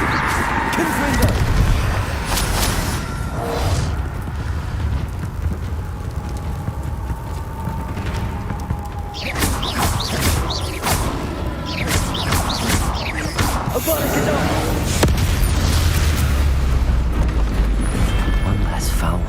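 Confringo blasting-spell explosions in the video game Hogwarts Legacy, repeated booming blasts and crashing debris layered over continuous battle noise, with a voice speaking throughout.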